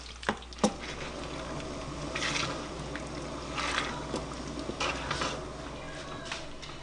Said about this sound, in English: I'm gonna let that water get to a boil and I'm gonna simmer it for a little while until the sauce thickens